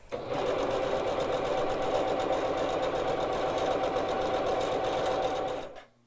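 A sewing machine chain pieces quilt block units, its needle running in a fast, steady, continuous mechanical patter for about five and a half seconds before stopping, close and alone without talk.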